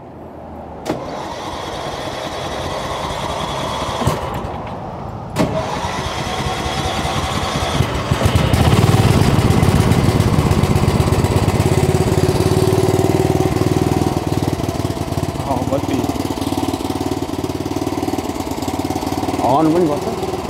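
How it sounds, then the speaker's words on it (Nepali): A homemade replica of a 1904 vintage car cranks and its engine catches, then settles into a steady loud running chug with a broad low rumble, while people talk nearby. "यो अहिले पनि चल्छ स्टार्ट हुन्छ सुन्नै पर्यो"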